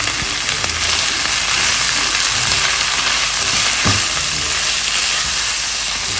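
Spiced masala with salt, chili powder, whole cumin and coriander frying in a pan, a steady dense sizzle and hiss running throughout at constant loudness, with a faint stirring knock near the middle.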